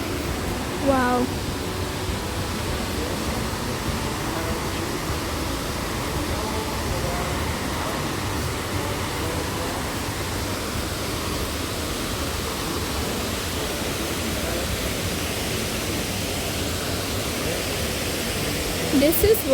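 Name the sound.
waterfall in Meghalaya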